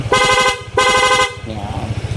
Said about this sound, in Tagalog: Loud horn natin may kasamang combo lights, long press lang rin para sa rapid.